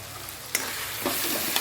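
A spoon stirs a potato and tomato curry seasoned with chili powder and turmeric, sending a soft frying sizzle and a few sharp scraping clicks against the pan at close range.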